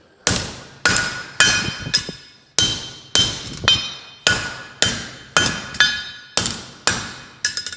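Hammer blows on hot metal at an anvil during basic forging, about a dozen sharp, ringing strikes in a steady rhythm, close and loud with no talking.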